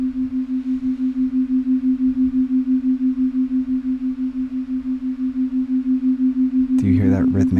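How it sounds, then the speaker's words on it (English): A steady low binaural beat hum pulsing in a slow, even wobble, like a soft throbbing beat; a voice begins speaking near the end. "Do you hear that rhythmic pulsing in your ears?"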